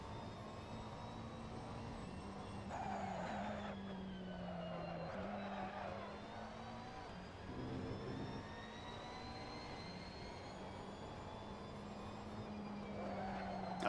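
GT3 race car engine in a racing simulator at the Barcelona circuit drones steadily with shifting revs, faint and continuous, with no voices.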